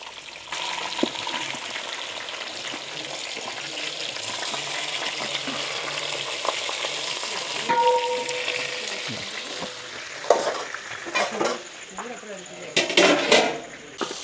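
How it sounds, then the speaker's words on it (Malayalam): Kera fish wrapped in banana leaf fries in a pan with a steady soft sizzle, with clattering and scraping toward the end, and a person talking over it. "നമ്മൾ വാഴയിലെ പൊതിഞ്ഞു വെച്ചിരിക്കുന്ന നമ്മുടെ കേരമീൻ 2 സൈഡും നല്ല പോലെ ഒന്ന് ആ വാഴയിലയുടെ കളർ മാറുന്ന രീതിയിലൊന്ന് നമുക്ക് മൂപ്പിച്ചെടുക്കാം"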